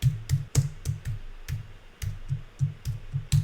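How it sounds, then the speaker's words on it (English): Computer keys click and clack in an uneven run of roughly a dozen presses, close and fairly quiet, with a few sharper taps among softer thuds and no voice over them. "I am going to hit the escape twice to get out from this command"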